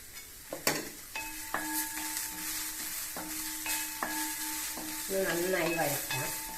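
Carrot and curry leaves sautéed for little millet upma sizzle steadily in a pan, broken by repeated spatula scrapes and clanks, some with a ringing, squeaky tone, close and continuous with no talk.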